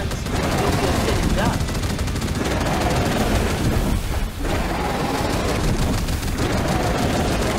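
Mech guns blaze in Big Shots VR, a dense, unbroken roar of heavy automatic fire that stays loud throughout, with a brief dip in the middle.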